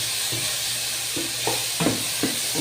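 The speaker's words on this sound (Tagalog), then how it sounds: "Nagluluto tayo ng ginataang tilapia with talong" Ginataang tilapia with eggplant cooks in a pan, giving a steady sizzle and hiss broken by a few short stirring clatters, close and fairly loud with no talking.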